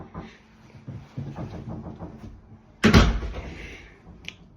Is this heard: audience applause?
no